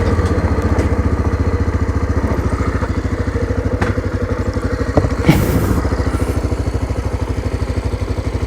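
A dirty motorcycle engine idles with a steady, close, rhythmic chugging, overlaid by faint rattling and a few knocks from stones striking parts of the bike.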